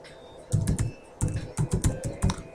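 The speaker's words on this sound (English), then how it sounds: "you type in your name" Fingers type in bursts on a computer keyboard, close and clear, with quick clusters of clicking keystrokes separated by short pauses.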